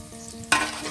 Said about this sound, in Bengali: একদম দেখুন পেঁয়াজগুলো তেলের সাথে ভেজে একদম লাল করে নেওয়া হবে